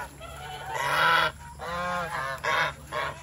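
Several geese honk loudly and nasally at close range, in bursts of repeated calls with brief pauses between them.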